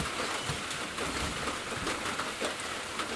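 Rain falls in a steady, soft hiss of drops on surfaces, with faint irregular patters throughout and no voices.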